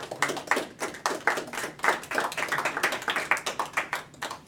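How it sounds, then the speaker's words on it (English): A small audience at a war literature interview event claps for Dr. Travis Martin: distinct, fairly close handclaps in a quick, uneven rhythm, with no voices over them. "let's give Travis a round of applause"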